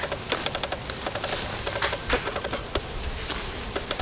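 Honeybees in a weak hive drone in a close, steady buzz, with individual bees whining past in brief, louder passes.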